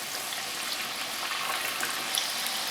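Samosas sizzle steadily in hot oil in a wok, a dense, even hiss of bubbling fat held at moderate volume throughout, with no voices over it.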